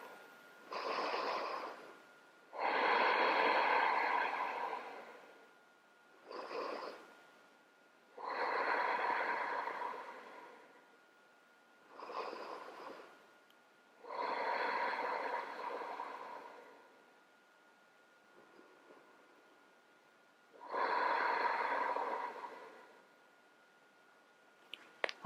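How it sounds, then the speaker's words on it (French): Slow, deep breathing during a hatha yoga pose: about five long inhale-and-exhale cycles, each a soft airy rush through the nose or mouth separated by short quiet pauses, close and unaccompanied by talk. "5 respirations"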